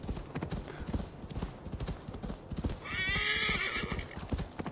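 Horse galloping in Assassin's Creed Valhalla, with rapid rhythmic hoofbeats close up and a loud whinny partway through, over faint game background sound.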